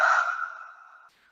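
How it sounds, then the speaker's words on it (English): A single deep breath pushed out through an open mouth during a slow yoga session, soft and close, fading steadily over about a second. "Open your mouth and exhale"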